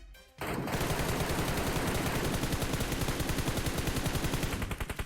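Sustained automatic gunfire spray in the PUBG Mobile video game, a rapid dense stream of shots starting abruptly after a brief pause and running steadily loud to the end, with no talk over it.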